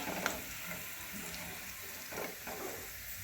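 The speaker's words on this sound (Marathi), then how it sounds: "बघा तसंच दुसरं पण पापड तळून घेऊया." Papad fries in hot oil in a home kitchen, making a steady, quiet hiss and crackle with a few soft pops and scrapes near the end. Nobody speaks.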